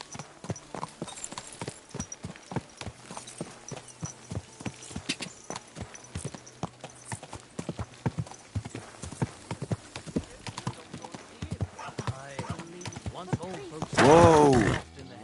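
Horse hooves clip-clop in the video game Kingdom Come: Deliverance 2 in a steady, close walking rhythm. Voices talk over them, and a loud whinny breaks out near the end.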